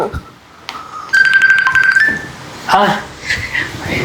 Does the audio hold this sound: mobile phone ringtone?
yes